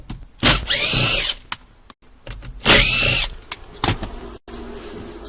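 Power drill with a 5.5 mm driver removing the three steering column screws on a 2010-2012 Ford Fusion, two close, loud whirring bursts of about a second each, separated by quiet pauses with small clicks.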